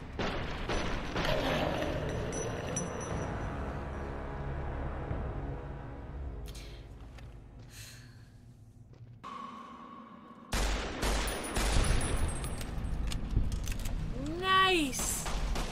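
Gunfire from the player's explosive weapon in Fallout: New Vegas, loud repeated shots and booms mixed with game effects and music, with a person talking over parts of it.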